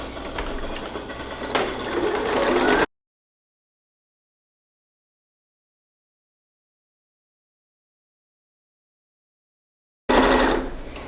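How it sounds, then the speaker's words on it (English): A sewing machine runs a seam with a one-centimetre allowance along the edge of a baby top, a hissy, whirring buzz heard in two short bursts, separated by a long stretch of silence. "I'm going to stitch along that edge, 1 centimeter seam allowance"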